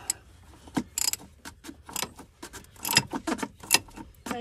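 A ratchet clicks in short irregular bursts as it tightens the fuel filter housing on a 2023 RAM 2500 with the 6.7 Cummins diesel. The sharp metallic ticks sound close and fairly quiet.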